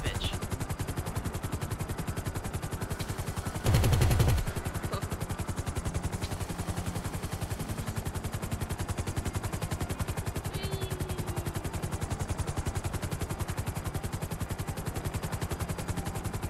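A helicopter in Grand Theft Auto 5 descends to land, its rotor chopping in a rapid, steady thump close and loud throughout, with a brief sharper burst partway through.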